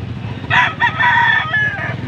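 A bulik gamecock crows loudly and close by at a busy gamecock market in Bulacan, one long cock-a-doodle-doo rising over a steady murmur of the crowd.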